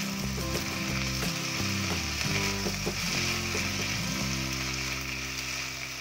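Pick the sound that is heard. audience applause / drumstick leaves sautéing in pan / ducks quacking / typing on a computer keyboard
drumstick leaves sautéing in pan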